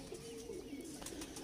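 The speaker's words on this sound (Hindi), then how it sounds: "तो अब ये आप देख रहे हैं मेरा ये कबूतर" A pet pigeon of the Lal Pari breed coos softly in a steady, low murmur, close and alone with no talk over it.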